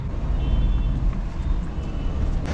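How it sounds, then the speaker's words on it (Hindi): Congested road traffic at the entrance of a petrol pump with a CNG queue, a steady low rumble of idling and creeping cars and trucks nearby, with no voices. "इसी ट्रैफिक की तो बात कर रहा था मैं। चलो, पेट्रोल पंप के एकदम मुंह पे ही लगा है ट्रैफिक।"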